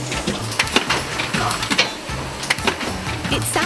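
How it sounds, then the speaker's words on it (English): Factory machine gluing lids onto yogurt pots: a rapid, busy clatter of repeated mechanical clicks and thumps in a fast, train-like rhythm over a constant industrial hum, loud and close. "I love the sound of the lids being glued down onto the pots"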